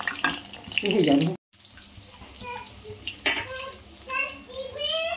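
Water splashes and pours over a child during a bath, with running tap sounds and drips close by, while a child and an adult talk over it.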